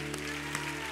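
Church congregation at a youth worship service applauding, a brief burst of many hands clapping over a sustained keyboard-like tone that hums underneath throughout.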